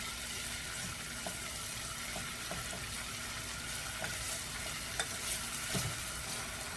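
Garlic frying in a pan for koshary is stirred, a soft continuous sizzle with light scraping and occasional small taps of the utensil against the pan, fairly close and without any talk.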